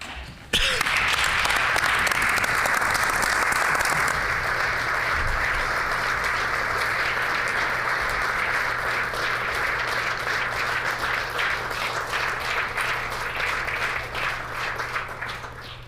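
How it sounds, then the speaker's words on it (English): Sustained applause fills a legislative chamber, many hands clapping steadily after an opening moment, slowly fading toward the end. "by applauding those who we have in the gallery here today"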